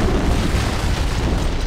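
An antimatter charge detonates aboard a ship in the Halo: Combat Evolved game, a loud, sustained deep rumbling boom that fills the whole moment without any voices.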